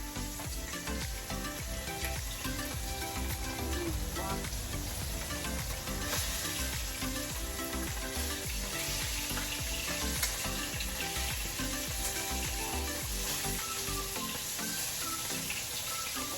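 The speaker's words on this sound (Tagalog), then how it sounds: "At mainit na po yung ating pamprito. Magpiprito na tayo." Steady, busy sizzling of food frying in hot oil, close and continuous, with faint stirring sounds and no talking.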